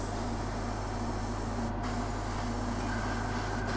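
An airbrush hisses in a close, constant spray while laying a thin base coat of paint on tabletop scenery bulkheads, with two brief breaks in the airflow.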